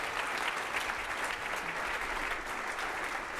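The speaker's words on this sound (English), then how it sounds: "Let's give her another round of applause." Steady applause from a conference audience at a women's leadership summit, sustained for several seconds, dense and even, with no voices over it.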